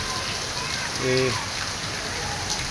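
Heavy rain pours steadily over a tree-lined park in Lahore, a dense, even hiss with a voice speaking briefly over it.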